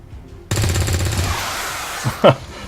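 Rapid gunfire in the video game Legendary Iron Man, a sudden loud burst of fast repeating shots that rattles for about a second, followed by a couple of separate sharp impacts, with no talking.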